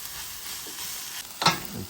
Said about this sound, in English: when you stir frying greens, you have to keep stir frying in the pan.